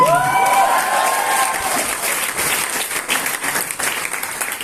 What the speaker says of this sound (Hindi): ताली जोर बजानी पड़ेगी